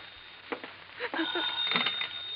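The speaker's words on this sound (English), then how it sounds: "Better answer that phone, Howard." A telephone rings in an old radio-drama scene, a thin, steady bell tone that is fairly quiet and slightly muffled, with faint sounds in the room around it.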